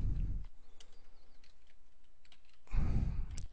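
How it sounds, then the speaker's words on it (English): Keys on a computer keyboard are tapped in a light, fairly quick series, faint and close, set between muffled bumps or breathy sounds at the start and end. "Just type in a title."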